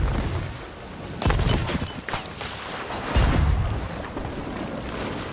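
Loud booming cannon blasts go off one after another in the game Sea of Thieves, heavy thuds over a constant roar of wind and water.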